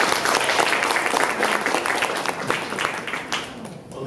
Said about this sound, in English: Can we give my sister another round of applause?